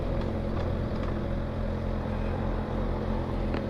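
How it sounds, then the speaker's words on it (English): Steady engine drone from a 2022 Kawasaki Ninja ZX6R 636 with its stock exhaust, a continuous low rumble holding an even pitch throughout while riding, with no voices. "Sounds really good for a stock exhaust as well."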